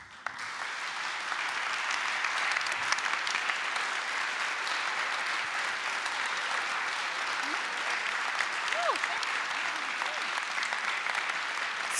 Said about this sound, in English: thank you for the applause for this great team